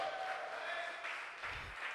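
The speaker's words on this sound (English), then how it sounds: "Come on, clap it up for Jaclyn Passaro." A comedy show crowd gives a short burst of applause for a comedian at the end of her set, scattered clapping heard at a distance under a host's voice.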